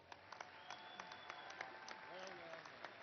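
Applause from a commencement audience honoring university graduates at a fall ceremony, a faint, distant patter of clapping under a steady hall murmur with a few sharper claps standing out.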